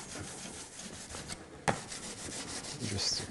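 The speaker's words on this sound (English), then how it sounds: "We're scraping off." Paint is scraped off a surface with continuous close, dry rubbing and rasping strokes, including one brief sharp knock partway through and faint talk in the background.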